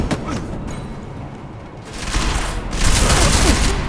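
Dense gunfire in the Deus Ex Mankind Divided video game, loud clustered shots and booming bursts that swell and intensify toward the end, with faint speech underneath.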